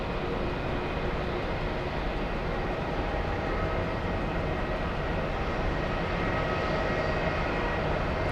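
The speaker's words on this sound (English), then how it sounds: "We have JetBlue 888 flying in from Los Angeles." JetBlue airliner inbound from Los Angeles, its steady broadband roar filling the whole stretch at a constant, moderately distant level with no talk over it.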